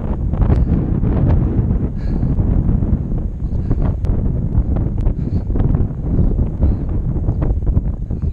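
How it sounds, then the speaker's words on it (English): Strong wind buffets the microphone on a breezy park hike, a loud, continuous low roar with gusty rustling and occasional faint ticks, steady throughout and with no voices. "This wind, this breeze."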